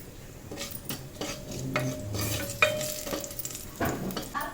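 Cumin and mustard seeds crackle and sizzle in hot oil inside a pressure cooker, with the sizzle continuous beneath clinks and scrapes of a spoon against metal, all fairly close.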